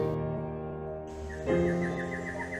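Antbirds calling in Central American rainforest, a repeated series of clear whistled notes emerging partway through over a steady background hum.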